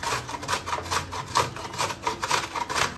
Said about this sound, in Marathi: भाज्या धुवून झाल्या की सुकं खोबरं आपल्याला किसून घ्यायचं आहे.